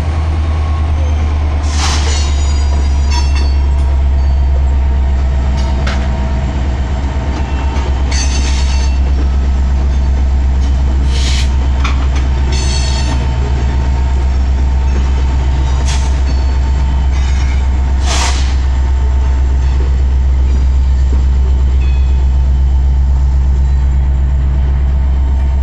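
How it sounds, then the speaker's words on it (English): The rear of a Kansas City freight train rumbles past close by with a pushing locomotive, a loud steady engine drone, wheel clatter and squeals for the whole stretch. "here comes the end of the train with the back locomotive"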